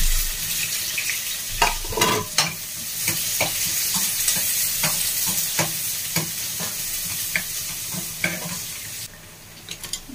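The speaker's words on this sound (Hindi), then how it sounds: "जीरा और तेजपत्ता ऐड कर दिया है, अभी ग्रीन चिली, तेल बहुत गर्म हो चुका है" Onion frying in very hot oil with cumin, bay leaf and green chili, a loud continuous sizzle under repeated scraping and clinking stirs of the pan, close up and without speech.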